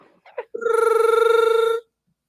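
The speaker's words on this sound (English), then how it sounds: "The phone ringing." A telephone rings once, a loud close electronic trill lasting over a second, preceded by a brief murmur of voice.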